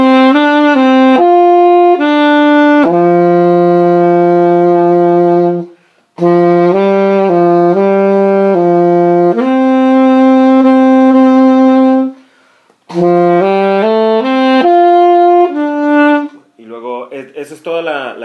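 An alto saxophone plays the melody of the bolero "Como Fue" by Beny Moré, clear sustained notes in phrases separated by short pauses, loud and close, with a brief fluttering passage at the end.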